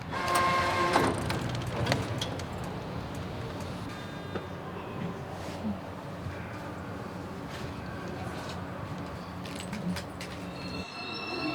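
A subway train in Busan runs along the track with a continuous rumble and rattle inside the car, faint squeals and clanks rising now and then, and quiet voices in the background.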